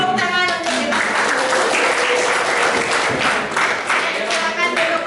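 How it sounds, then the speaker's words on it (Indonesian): Students in a classroom applauding together, loud dense clapping sustained for several seconds with voices chattering through it. "Tepuk tangan untuk kita."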